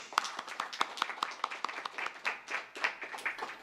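A church congregation claps along in a steady, fairly quick rhythm, each clap crisp and distinct, moderately loud and close with no voices over it.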